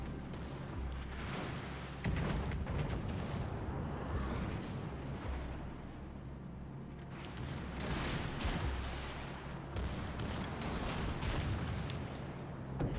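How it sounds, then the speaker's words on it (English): Torpedoes strike a battleship in the naval video game World of Warships Legends, setting off a string of deep, rumbling booms and blasts that swell and fade repeatedly. "I want to see the torpedoes hit."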